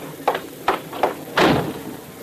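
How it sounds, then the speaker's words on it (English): A door is pushed shut: a few light knocks and clicks, then a heavier, fuller thud as it closes, all close by and with no one talking. "First, I'll close the door."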